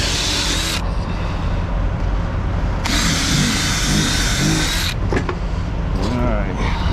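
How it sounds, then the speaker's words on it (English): A power drill with a 1/2-inch bit whines loudly and steadily, its pitch dropping and rising as it bites through a rubber trailer mud flap, with brief pauses between bursts. "I use a 1/2-inch drill so that way you can actually get the bolt through"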